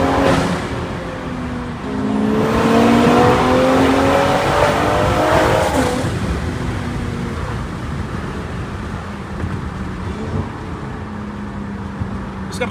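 A Stage 2 tuned BMW M340i engine revs hard and loud, swelling to a sustained roar with rising tones before settling into a steady, throaty drone, heard alone without talk.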